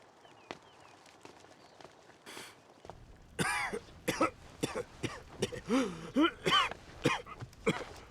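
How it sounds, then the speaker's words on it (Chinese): An elderly man with a chronic cough coughing repeatedly in rough, throaty bursts, close by, after a quiet stretch with faint thumps and rustling. "屋里呢，一直咳嗽。"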